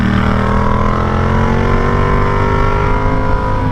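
A Yamaha MT-07 motorcycle is ridden through town in third gear, its engine humming at a steady, moderate pitch close by, with no voices.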